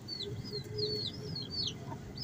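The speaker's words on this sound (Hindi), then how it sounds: "ये देख लें मुर्गियाँ हमारी, और ये बच्चों वाली मुर्गी रही हमारी।" Backyard chickens, including a hen with her chicks, cluck softly with high peeping chirps over low background noise, fairly close and without speech.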